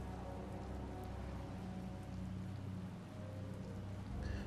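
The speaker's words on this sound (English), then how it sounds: "the rain wouldn't be stopping anytime soon" Rain in the video game Tales of Vesperia, a steady even hiss of falling drops that stays constant throughout, faint and alone with no talk.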